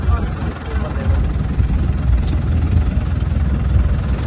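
A tractor engine with its silencer submerged in floodwater runs with a continuous low, throbbing rumble, steady throughout, with muffled voices faintly underneath.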